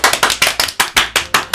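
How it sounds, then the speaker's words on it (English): Four players in the game Doki Doki Literature Club clap in a game sound effect: a loud, evenly spaced series of about ten sharp claps, each with a quick decay, and no voices over it. "The four of us applaud."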